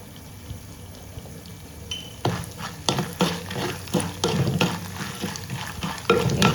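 Tempering vadagam crackling in hot oil in a pan, a quiet sizzle that swells into louder bursts of frying and stirring scrapes after a couple of seconds, continuing close and steady.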